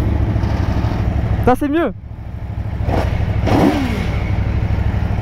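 A motorcycle engine rumbles steadily with a brief rev partway through, while people talk over it.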